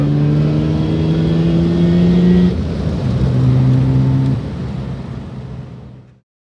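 A Mazda RX-7 rotary engine revs hard and close, holding a buzzing drone that drops in pitch, climbs again, then winds down and cuts off after about six seconds.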